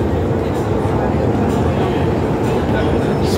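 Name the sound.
MTR train arriving at Admiralty station, Hong Kong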